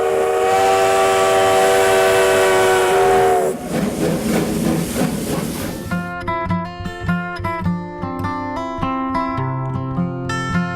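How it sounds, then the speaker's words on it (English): A loud, sustained steam whistle blows, then a hissing burst of steam gives way to rhythmic chugging and clanking as the 1880 Train steam locomotive pulls away from Hill City in the Black Hills. "We board the 1880 train in Hill City"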